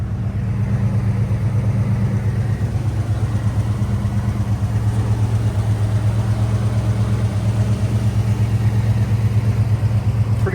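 A vehicle engine idles steadily nearby, a low, even rumble with light clatter holding constant and unaccompanied by voices.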